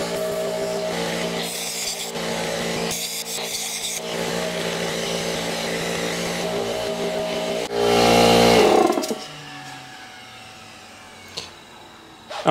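Abrasive walnut-shell blaster runs at 60 PSI from a compressor, cleaning carbon off the intake valves of a BMW N54 engine: a steady, loud gritty hiss with brief gaps, a surging louder burst near the end, then it cuts to quiet.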